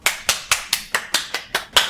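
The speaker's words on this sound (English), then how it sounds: "Clap for yourselves." Clapping at a children's club session, eight sharp rhythmic claps evenly spaced about a quarter second apart, close and fairly loud with no talking.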